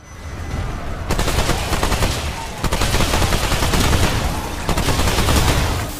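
A Tommy-style submachine gun fires in the video game Remnant 2, sustained rapid automatic bursts that run loud and dense throughout, with brief breaks between long strings of shots.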